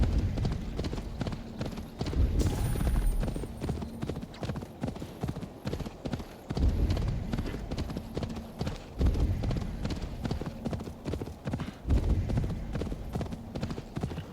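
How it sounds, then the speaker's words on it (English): Steady clip-clop of horse hooves trotting in an even rhythm in Assassin's Creed Valhalla, with a faint whinny early on and game music and ambience underneath. "Reason I'm using a horse."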